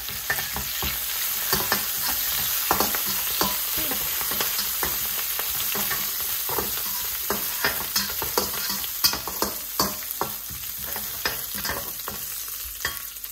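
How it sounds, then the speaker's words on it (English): Basil leaves fry in a little sunflower oil in a warm pan, giving a dense, steady sizzle broken by frequent crackles and pops throughout. "And I'm gonna put the basil in straight away. The pan is warm, you don't need to wait."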